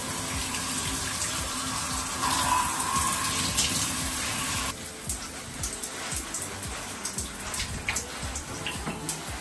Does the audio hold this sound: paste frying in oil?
no